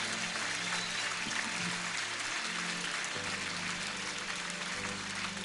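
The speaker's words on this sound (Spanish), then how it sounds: "Dale un aplauso al Señor" Audience applause at a church theatre production, a steady, dense wash of clapping that fills the room for several seconds at moderate loudness, with a faint tonal hum or music underneath.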